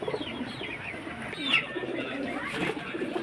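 Soft, low cooing of pigeons rises and falls close by, with a sharper bird chirp partway through and no talking.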